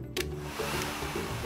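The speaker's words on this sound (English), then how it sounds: "So we put the hairdryer on your head." A hair dryer blows with a steady, loud whir that runs almost unbroken for a second and a half, with no talking over it.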